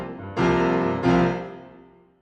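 Two softened piano notes from a Synchron CFX virtual concert grand played with the soft pedal engaged, each struck cleanly and ringing out with a muted tone, the second decaying slowly into silence.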